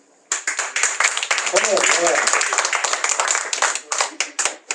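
A comedy show audience bursts into applause, dense hand clapping starting abruptly and continuing for several seconds before thinning into scattered claps, with a performer's voice briefly heard over it.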